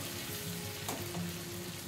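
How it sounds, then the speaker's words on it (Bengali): Ginger paste fries in a pan with a short, steady, close sizzle and one quick stirring scrape midway, no talking. "আবারও সব কিছুকে খুব ভালো করে মিশিয়ে নিচ্ছি বা ভেজে নিচ্ছি।"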